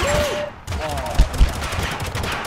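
Rapid, dense bursts of minigun fire in the video game Totally Accurate Battlegrounds, loud and close, with a few heavier thumps and voices talking over the shooting.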